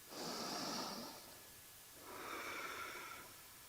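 Steady breathing during a hinge exercise in a balance workout: a long rushing exhale, a pause, then a second breath, close and fairly loud, with no talking.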